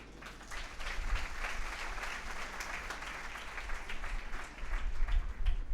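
A church congregation claps steadily through a Sixth Sunday of Easter homily, a dense, even wash of applause held for several seconds and swelling slightly near the end.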